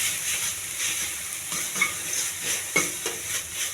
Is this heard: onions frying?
yes